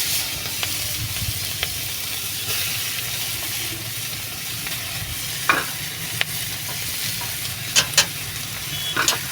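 Smoky, charred meat pieces for kabab kosa sautéed in spiced masala over a wood-fired clay stove, hissing in a steady close sizzle with occasional scraping and clacking of the stirring spoon.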